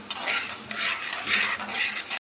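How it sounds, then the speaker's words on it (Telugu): Urad dal and chana dal fry in a pan while being stirred, giving a steady close crackling sizzle with rhythmic scraping swells, which ends abruptly. "మినప్పప్పు శనగపప్పు ఇలా లైట్గా బ్రౌన్ అయ్యే వరకు ఫ్రై చేసుకోవాలండి, మాడనివ్వద్దు."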